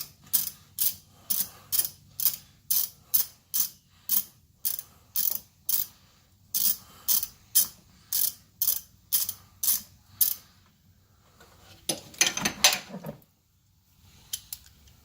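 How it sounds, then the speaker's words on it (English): A ratchet socket wrench loosens the positive battery cable nut on a 2007 Chevy Avalanche, about twenty rapid, evenly spaced metallic clicks, close and crisp, then a brief burst of rattling handling near the end. "You can just spin the socket with your fingers"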